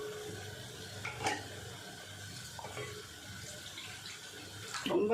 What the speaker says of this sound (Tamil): தேவையான அளவு தண்ணி ஊற்றிடலாம்